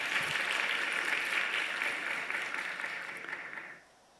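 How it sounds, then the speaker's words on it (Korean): A church congregation claps for its hard-working elders, a dense, steady wash of applause from many hands that holds evenly for several seconds before cutting off sharply near the end. "우리 열심히 일하시는 장로님 박수 좀 한번 합시다"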